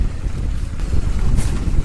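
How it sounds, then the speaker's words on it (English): Steady, loud wind roars across the microphone while riding a full-power electric mountain bike, a Transition Regulator, on a trail with overgrown brush, with gusty swells and no talk. "It is windy."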